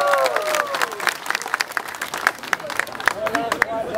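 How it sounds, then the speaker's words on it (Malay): An audience at a Lun Bawang community anti-crime gathering bursts into steady applause, dense clapping filling the room with a few scattered cheers and whistles throughout. "Mari tepukan."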